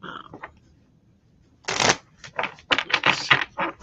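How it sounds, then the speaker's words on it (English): A deck of fairy oracle cards is shuffled close up, first a few light taps, then a loud riffle followed by a quick run of crisp card flicks. "let's do a little bit of shuffling here"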